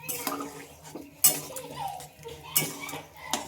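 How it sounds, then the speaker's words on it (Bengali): Peas and potatoes being mixed in a pot for ghugni, a spoon scraping and knocking against the metal in uneven strokes with three sharper clinks, fairly close and otherwise quiet. "এবার এটা একটু ভালোভাবে মিশিয়ে নিতে হবে"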